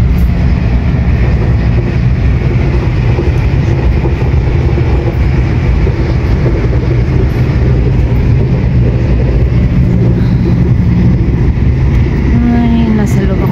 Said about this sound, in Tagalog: Ay, nasa loob ako ng train.